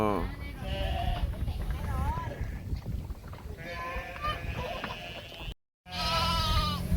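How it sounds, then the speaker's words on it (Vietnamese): Goats and sheep returning to their pen on a sheep farm bleat repeatedly in wavering, nasal calls, fairly close, with a brief silent gap near the end. "Dê về chuồng, cừu về chuồng rồi mèo ơi."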